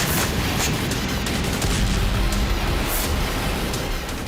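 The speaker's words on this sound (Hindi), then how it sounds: "रूसी सेना ने आर्टिलरी के जरिए विद्रोहियों पर हमले शुरू कर दिए हैं।" Artillery fire in the Russia-Ukraine war comes as a dense barrage of loud booms and cracking blasts, overlapping and continuous throughout, with no speech.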